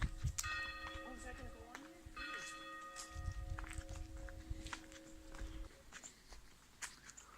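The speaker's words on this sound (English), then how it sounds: "It's the church bells." Church bells ring out in Lambokambos, a village in the Peloponnese, Greece, sounding as two clusters of ringing strikes whose tones hang and fade, with footsteps and faint outdoor background underneath.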